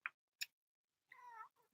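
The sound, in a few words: cat meowing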